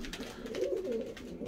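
Pigeons coo softly in an attic loft, a low, rolling, murmuring call heard close and alone over faint room noise.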